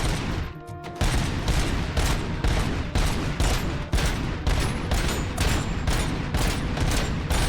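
Rapid bursts of gunfire ring out in the RoboCop: Rogue City video game, a dense run of repeated sharp shots after a brief lull near the start, loud and continuous with no speech.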